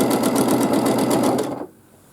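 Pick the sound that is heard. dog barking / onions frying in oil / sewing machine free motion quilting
sewing machine free motion quilting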